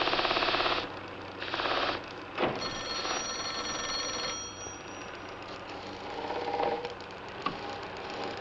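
An old-fashioned telephone bell rings in loud repeated bursts with short pauses, heard alone in a 1951 mystery television drama, followed by quieter room tone.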